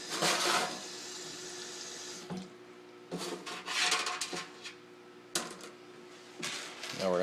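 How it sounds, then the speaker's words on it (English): Tap water runs from a sink into a bottle, filling it about halfway, in bursts of splashing flow with short pauses between, close and fairly loud with no talk. "We're going to put some water in it, about halfway up."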